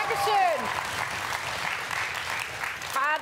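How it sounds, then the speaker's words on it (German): A studio audience at a children's TV show claps loudly and steadily for a dance performance, with a presenter's voice over the applause at the start and end. "Großen Applaus nochmal"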